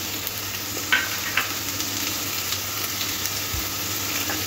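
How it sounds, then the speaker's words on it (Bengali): Papaya and potato pieces frying in a pan, a constant close sizzle with a few light spatula taps as they are stirred. "পেঁপে আর আলুটা 3 থেকে 4 মিনিট এরকম নাড়াচাড়া করে ভেজে নিয়েছি।"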